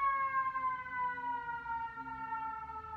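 A siren wails steadily near a hospital, a clear wavering tone holding at moderate distance and slowly falling in pitch with no speech over it.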